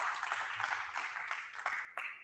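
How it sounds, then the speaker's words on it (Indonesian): Students in a classroom clapping together for a couple of seconds, a dense, steady patter of many hands that stays fairly loud throughout and tapers near the end. "Silakan tepuk tangan untuk kalian semua"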